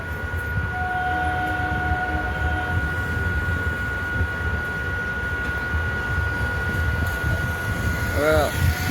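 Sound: passenger train starting to move again

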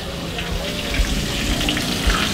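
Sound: water pouring

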